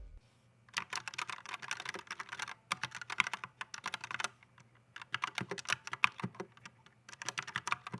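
Bursts of rapid typing on a compact mechanical keyboard with proprietary switches, soft clicky keystrokes in several runs separated by brief pauses, close and clear with no talking.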